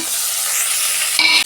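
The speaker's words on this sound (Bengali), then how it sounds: "পেঁয়াজটা আমি 2 মিনিট ভেজে নেব।" Sliced onion frying in oil left over from frying katla fish pieces, giving a close, steady sizzle with a brief stirring clink near the end.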